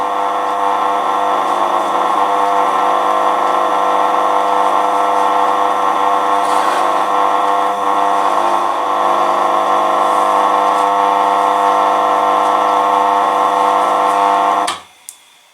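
A woodturning gouge is honed against a rounded grinding disc: a steady, loud whirring hum with a bright abrasive edge that runs unbroken for about fifteen seconds, then cuts off abruptly.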